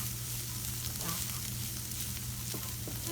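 Mushroom stuffing with Parmesan sizzles in a pan with a steady, close frying hiss, with a couple of faint stirring clicks and no voices.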